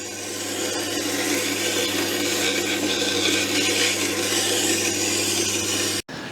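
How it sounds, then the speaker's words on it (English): Steady, continuous rubbing and rasping of a chipped planer blade edge being honed on a sharpening stone, close and even, ending abruptly with a brief stop near the end. "And just hone that edge."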